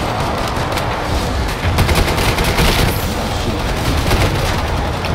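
Relentless heavy gunfire in the shooter Killing Floor 2, a loud, dense wall of rapid shots and booming impacts with no pause.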